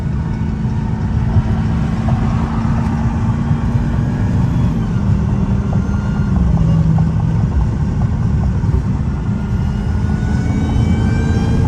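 Supercharged 850 WHP Dodge Hellcat-powered 300 engine droning loud and close from inside the car, a steady deep roar with a slowly shifting pitch and no talk.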